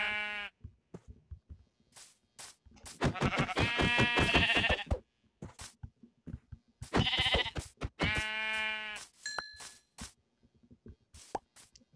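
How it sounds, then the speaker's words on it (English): Minecraft sheep bleat in a video game, several wavering calls in two main bursts separated by short pauses, with soft plopping game sounds and clicks between them and no talking. "But they got sheep here, so that's good."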